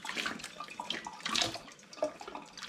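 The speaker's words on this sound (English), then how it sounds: "So I take my boiling water, and now I simply pour it over these." Boiling water poured from a vessel over plastic shrink caps on homebrewed beer bottles, a soft, steady splashing and trickling stream of water running for a few seconds without talk.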